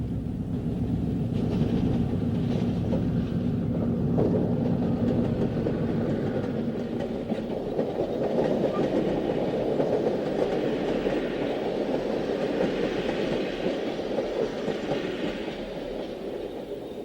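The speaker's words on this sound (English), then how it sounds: "An EMD E8 and an Alco PA, both in new colors, slowly pull the Cannonball through Delray Junction." An EMD E8 and an Alco PA diesel locomotive slowly haul a passenger train through a rail junction, a steady rumbling roll with wheel clatter on the rails, moderately near and continuous with no voices.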